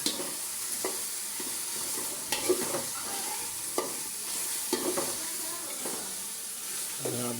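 Bay leaf, garam masala and cinnamon frying in oil, a continuous close sizzle with intermittent clinks and scrapes of stirring, spaced through the frying.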